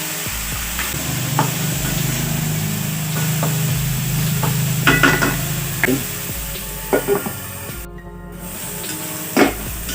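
Ground meat mixture for Ilocano pinakbet stir-fries in a pan, a loud, steady sizzle with scraping stirs and occasional clacks of a utensil.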